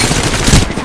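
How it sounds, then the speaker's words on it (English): Gunfire in the video game Apex Legends, heard as a very short, loud, dense burst of rapid shots lasting under a second. "Getting shot at."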